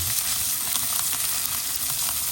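Rosemary leaves and crushed garlic sizzle steadily in a hot pan while rib eye steak is cooked, a close, continuous crackling fry with light stirring and no voices.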